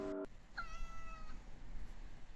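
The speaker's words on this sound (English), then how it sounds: "that was definitely a cat noise" A cat meows once, clear and fairly close, with a rising then falling tone, in an otherwise quiet indoor room of an old historic house.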